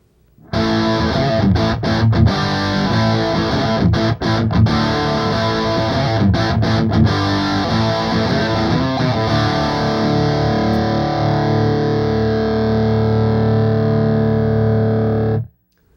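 A heavily distorted electric guitar through a Mesa Boogie Dual Rectifier tube amp head in raw mode sustains thick chords, strummed a few times and then left to ring out loud and close.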